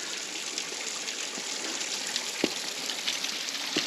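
Water drips and trickles steadily by a tunnel at a Welsh slate quarry, a continuous wet hiss with a few sharper individual drops landing close by.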